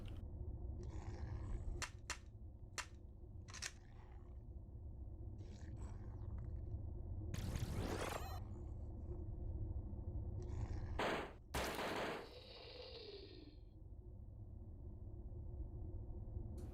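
A laser gun firing in a horror video game, heard as several sharp bursts and zaps over a low droning game ambience, with short clicks between them.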